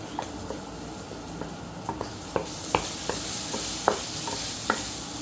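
Garlic sizzles in hot oil in a pan while cooking for an eggplant omelette, with a steady frying hiss broken by light clicks of stirring.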